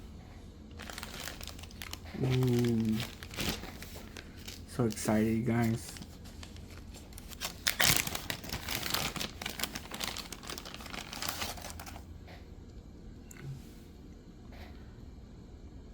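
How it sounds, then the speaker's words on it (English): Close plastic bag crinkling and rustling throughout as an action figure is unwrapped, with a person speaking excitedly over it in short bursts. "Now I'm gonna take her out of the plastic bag."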